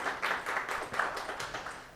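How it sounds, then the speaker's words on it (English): A live audience at an in-person evening event claps in a short burst of uneven, overlapping hand claps that fades slightly toward the end, with no talk over it. "Give a round of applause for yourselves."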